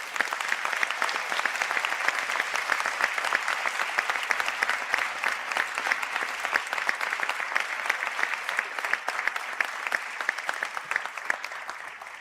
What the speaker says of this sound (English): to stand now for a round of applause